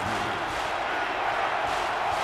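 A stadium crowd roars steadily in an NCAA 14 college football game, a sustained wash of cheering and noise at moderate level without break.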